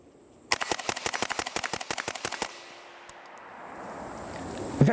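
A suppressed SCAR 16 rifle fitted with a HuxWrx Flow 556K silencer fires a quick string of about twenty close, sharp shots over two seconds, then falls quiet with faint background noise.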